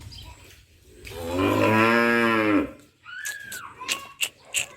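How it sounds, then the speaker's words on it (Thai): A cow on a village farm lets out a long, loud moo close by, followed by scattered bird chirps and faint background noise. "ให้ฟังวัวกันค่ะทุกคน"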